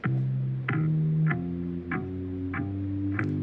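A looping electronic GarageBand groove with a thick bassline stepping between notes and a drum hit punching in roughly every two-thirds of a second, steady and upfront.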